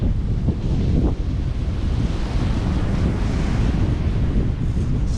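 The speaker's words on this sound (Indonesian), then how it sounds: "Ini dia pantai Tepas Selatan, Pasir Tinggi." Surf washes onto Pasir Tinggi beach in South Tepas, Simeulue, Aceh, a continuous loud roar of waves heavily mixed with wind buffeting the microphone.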